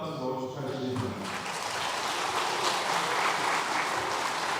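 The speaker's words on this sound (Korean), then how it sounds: "시상할 때 큰 박수로 축하해주시기 바랍니다." A church congregation claps for winners at a 2025 award ceremony during a Sunday service, producing a steady, dense wash of applause that lasts throughout. A voice speaks over the first second.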